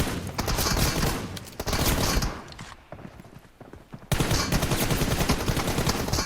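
Video-game gunfire rattles in dense rapid bursts, loud and continuous for a couple of seconds, dropping briefly to scattered shots before heavy firing resumes, with no talking.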